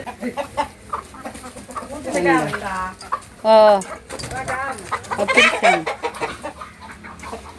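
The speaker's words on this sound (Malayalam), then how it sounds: "അമ്മ കോഴികളെ വളർത്തുന്ന കോഴിക്കൂട് കണ്ടോ? ഒത്തിരി കോഴികളുണ്ട്." Native hens in a home coop cluck and squawk repeatedly at close range, with one drawn-out call standing out, while people talk in between.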